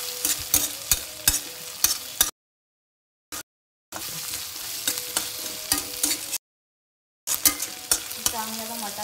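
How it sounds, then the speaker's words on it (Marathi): Green peas stir-fried in a pan with soybean chunks and potato, steady close sizzling broken by repeated spatula scrapes and stirring clatter, with two brief pauses of silence. "चांगलं हे मटार त्याच्यामध्ये आपल्याला चांगले परतून घ्यायचे."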